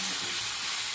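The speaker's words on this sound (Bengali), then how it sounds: "একটু নাড়িয়ে দেবো।" Tomato and green chilli frying in a pan while being stirred, a steady bright sizzle with no talk over this single second.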